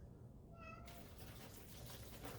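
A cat gives a short meow early on, faint and brief over a steady rush of running water from a tap in a kitchen.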